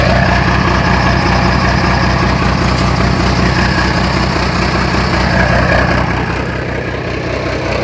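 A bus engine fitted with a GAR AR84 turbo and a fully straight exhaust runs steadily and loudly up close, a continuous rough mechanical drone with no talk over it.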